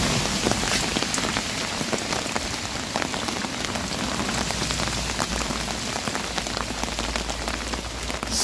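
Steady rain falls across open, boggy countryside in the middle of Wales, making a dense, continuous close hiss of drops with no voices.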